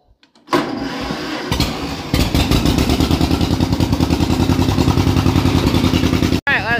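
A John Deere sickle mower's small engine cranks and catches, then settles into a loud, steady chugging idle with rhythmic pulses, close by and running alone.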